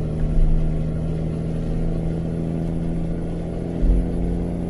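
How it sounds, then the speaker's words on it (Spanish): Mercedes-Benz L 1620 truck loaded with fresh fruit on a Brazilian road, its engine a steady, close, loud drone that pulls evenly under acceleration, with a low thump near the end and no talk. "Oigan el motor, es una delicia ese motor."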